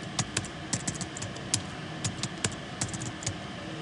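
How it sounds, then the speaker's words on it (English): Computer keyboard keys tapped at an uneven pace while entering a new password, a string of quiet, close clicks with small gaps between keystrokes. "Type in the new password"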